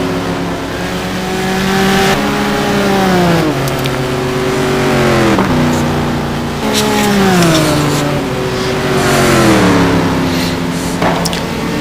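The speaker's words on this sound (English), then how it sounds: "as we watch the drivers continue to try to put down some hot laps" GT1 race cars lapping Monza in a racing video game, engines loud and close as they rev through the gears. Each upshift drops the pitch and the engines pull hard again, repeating steadily with no talking.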